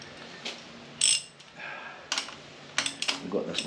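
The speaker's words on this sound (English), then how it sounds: "we need our 1/2 inch ratchet" A half-inch ratchet works loose the bolts on an Austin 7 cylinder head, giving short bursts of quick clicking pawl sounds with metallic clinks and pauses between strokes, heard close up.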